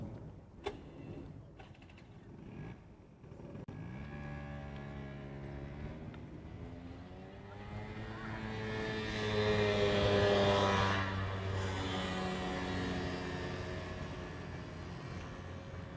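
A jet airliner takes off from runway 8 Left at Honolulu's Daniel K. Inouye International Airport, its engine roar swelling from a distant rumble to a loud, sustained peak, then easing slightly as it climbs away.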